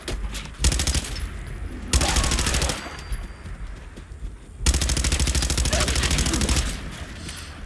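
Pipe weapon gunfire in the Fallout 4 video game: three loud, close, sustained bursts of rapid automatic fire, separated by brief quieter gaps.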